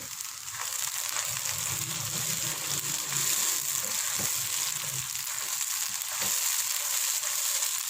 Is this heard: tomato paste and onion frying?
yes